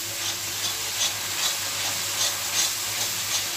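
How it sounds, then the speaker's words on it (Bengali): Spice masala with peas stir-fried in oil in a pan, a steady loud sizzle and hiss with soft scraping pulses from stirring about every half second, with no voices. "দিয়ে ভালো করে কষিয়ে নিতে হবে সুন্দর করে।"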